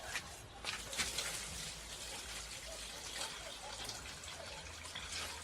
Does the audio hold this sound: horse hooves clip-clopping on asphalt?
no